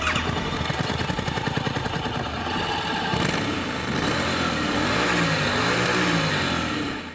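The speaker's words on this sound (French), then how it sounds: "Ça, c'est un bicylindre." A twin-cylinder motorcycle engine revs steadily at a race event, with a busy, continuous mechanical drone that rises and falls in pitch toward the end.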